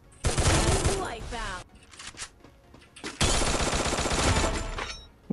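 Bursts of rapid pistol gunfire from the video game Free Fire, two loud sustained volleys of close shots separated by a quieter gap with scattered game sounds.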